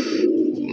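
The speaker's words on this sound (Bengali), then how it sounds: "এই কবুতরটা এখন আমার কবুতর" A single pigeon gives one short, low throaty coo, close and clear with no other sound around it.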